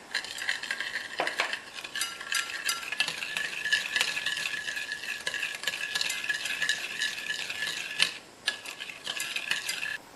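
A spoon stirs sugar and salt in a bowl, giving a steady, close scraping and clinking that keeps up for the whole stretch with a brief pause near the end, and no one speaks.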